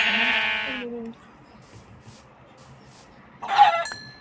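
A sheep in a video game bleats loudly near the start, then a second shorter bleat follows after a quiet pause, with faint background noise between.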